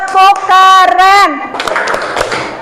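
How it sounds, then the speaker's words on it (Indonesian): A class gives a rhythmic 'tepuk keren' clap, with children's voices chanting in unison before sharp, irregular group claps and taps. "Yuk kita beri tepuk keren untuk kelompok 1. Tepuk keren."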